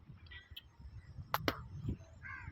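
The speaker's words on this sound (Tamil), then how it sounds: "தினசரியும் இந்த பறவைகள் அதிகாலையில் வந்துடுது" Birds call in the early morning outdoors, a few faint, scattered chirps and a couple of sharp caw-like notes over quiet background noise, with no voices.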